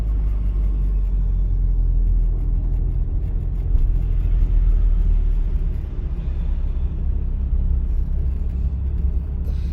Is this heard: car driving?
yes